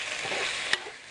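Shrimp being stir-fried with shrimp paste, a steady close sizzle with one sharp scrape of a utensil near the end, no talk.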